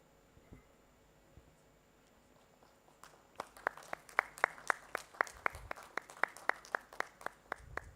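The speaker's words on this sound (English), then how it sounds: "I see a lot of applause from our dignitaries on stage" Sparse, scattered handclaps build into steady applause from a small group at the Odisha Tex 2025 launch event in Bhubaneswar, sharp claps repeating quickly and evenly over a quiet room.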